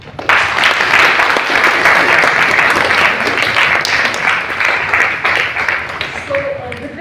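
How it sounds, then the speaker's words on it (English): An audience at a memorial lecture in a hall at Delhi's Constitution Club claps loudly and continuously for several seconds, a dense sustained applause that starts abruptly and tapers slightly as a voice begins near the end. "So, can we clap?"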